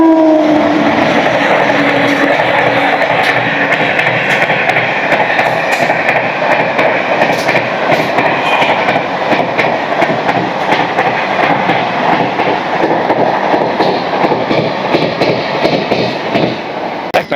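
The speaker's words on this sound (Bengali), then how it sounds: "এক্ষুনি আমাদের সঙ্গে দেখা হবে 12-664 তিরুচিরাপল্লী হাওড়া সুপারফাস্ট এক্সপ্রেসের সঙ্গে।" The 12664 Tiruchirappalli–Howrah Superfast Express passes a station at a red signal, a loud, continuous rumble and rattle of wheels and carriages that carries on steadily throughout, with no talk.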